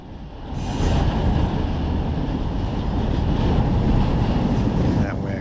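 A freight train in Run 8 Train Simulator works industries around Modesto, California, giving a steady, close, heavy rail rumble that swells and holds for several seconds without a break.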